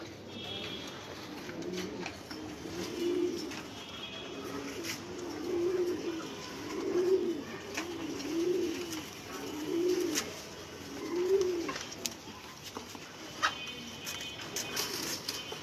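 Pigeons coo repeatedly in a steady rhythm of soft, low rolling calls, fairly close, with faint background noise.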